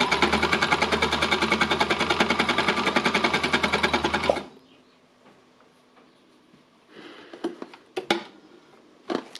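A sewing machine stitches fabric with a loud, steady rapid whirring hum for about four seconds, then stops abruptly, leaving quiet handling clicks and light rustles.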